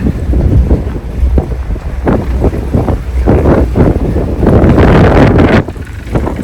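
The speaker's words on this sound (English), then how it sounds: "He is braving the wind." Strong wind buffets the microphone on an open ferry deck in British Columbia, a loud continuous low roar with gusty surges throughout.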